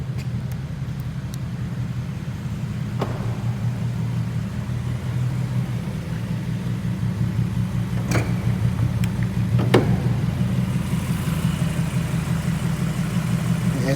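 A Fiat Marea HLX 2.4 five-cylinder, 20-valve engine idles steadily in a garage, giving a continuous low, even rumble at close range with a couple of faint clicks.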